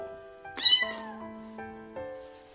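A small rescued stray kitten cries out with a sharp, high meow, followed by several fainter plaintive mews, close to the mic in a quiet room.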